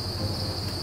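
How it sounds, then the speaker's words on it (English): Live crickets in a bin with egg cartons give a continuous high-pitched chirping drone, steady and fairly close, over a low background hum, with no talk. "so that's all the crickets."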